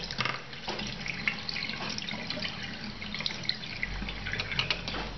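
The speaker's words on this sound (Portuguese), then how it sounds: "E vou enxaguar." Makeup brushes rinsed under a running tap, water splashing and dripping close by in an irregular, busy patter with a steady flow underneath.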